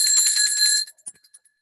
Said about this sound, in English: I ring my bell and I can feel that viscerally through my entire being